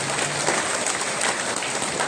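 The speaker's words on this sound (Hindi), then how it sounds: "उनके लिए भी एक बार जोरदार तालियां बजाएं।" An audience at a religious discourse and blood donation camp applauding for the Maharaj, a dense, steady wash of clapping throughout the short stretch, fairly loud and even.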